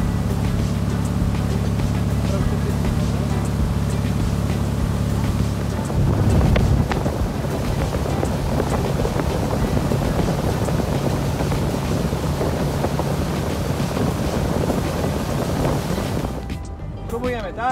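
A motorboat tows a wakeboarder across the water, its engine drone steady at first, then giving way to rushing water, wind buffeting the microphone and splashing.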